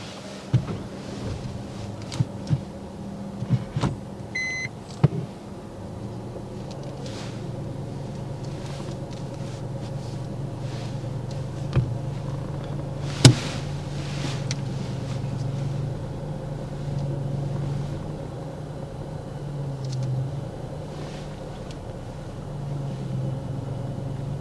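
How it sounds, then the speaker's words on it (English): A car reversing slowly during a driving test, with a steady low engine hum and idle-like drone inside the cabin, a few clicks and knocks near the start and one sharp tap midway. "if you could reverse back two car lengths for me now"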